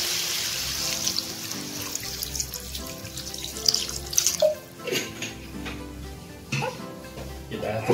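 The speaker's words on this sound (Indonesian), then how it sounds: "Tambahkan sedikit air ya." Water pours steadily into chili paste inside a Cypruz food chopper while grinding seasoning for spicy mercon chicken feet, a continuous wet splashing running through the whole clip, with music playing underneath.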